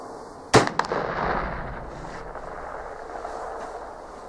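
A single sharp, loud gunshot from a Tingle 44 pistol fired outdoors at a target. A couple of quick echoes follow, then a long fading rumble and steady wind noise.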